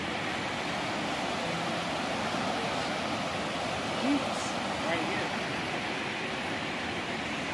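River water flows steadily beside a forest trail near Greenwater, Washington, a continuous broadband rush that stays even and fairly close for the whole stretch, with no voices over it.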